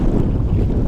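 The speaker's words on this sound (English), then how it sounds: "The wind has picked up probably like 20 miles an hour." Strong gusting wind at a lake buffeting the microphone, a loud low rumbling roar that fills the whole brief moment with no voices.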